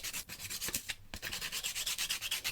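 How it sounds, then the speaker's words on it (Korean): Sandpaper rubbing rough wooden cube marionette parts in quick, regular back-and-forth strokes, close and soft, with a brief pause near the middle. "이런 거칠거칠한 부분을 사포해 줍니다. 이렇게 비비면 나뭇가루들이 나오고요"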